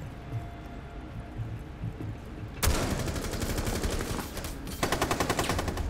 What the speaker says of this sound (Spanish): Vamos a ver si lo pillo con la escopeta